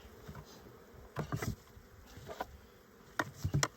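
Honey bees buzz around an open hive during a spring inspection, a soft steady hum with several louder close passes as individual bees fly near, no voices.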